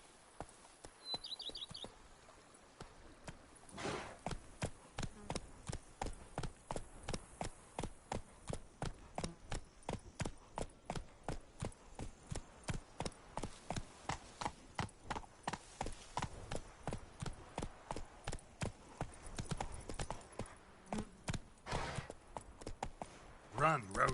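A horse in The Witcher 3 trots along with an even, regular clip-clop of hooves that holds a steady rhythm for most of the stretch, with faint birdsong in the background.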